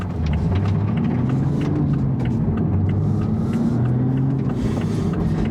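A MkV Toyota Supra fitted with a UniClutch twin-plate clutch driving along, a loud, steady engine drone with road rumble inside the cabin, the pitch rising and falling gently.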